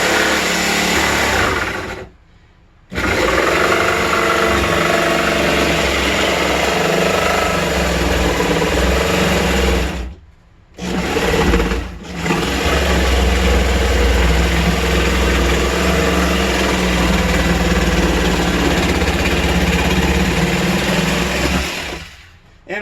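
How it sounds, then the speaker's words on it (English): An old jigsaw fitted with a fine scroll blade cuts through a panel on an RV travel trailer laundry door, running loud and continuous with a steady buzzing roar, broken by three brief pauses. "I'm going to go ahead and run my jigsaw into the hole that I just drilled."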